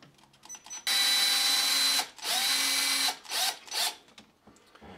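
Power drill boring holes into a wall for a wall light bracket: a loud, steady high whine for about a second, a second long run, then two short bursts, heard close with no talking.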